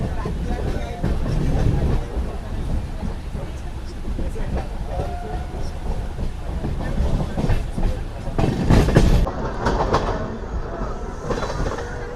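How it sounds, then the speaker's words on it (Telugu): The Coromandel Express from Chennai to Shalimar rolls slowly along the tracks near Ongole, a loud, continuous rumble with rhythmic clickety-clack of the wheels and a brief harsher surge near the end. "సో దీనివల్ల కూడా మన ట్రైన్ వచ్చేసి చాలా అంటే చాలా స్లోగా తీసుకెళ్తున్నాడు"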